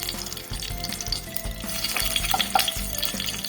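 Dried red chillies sizzle in hot oil as a tempering for Ekadashi khichuri, a steady close crackling fry with occasional stirring scrapes.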